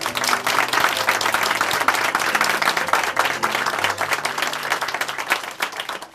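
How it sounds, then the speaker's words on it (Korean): Steady, dense applause from a church congregation at a Chuncheon church service, filling the whole stretch at an even, fairly loud level with a faint low hum underneath. "서로의 공동체를 위해서 박수 보내주시기 바랍니다."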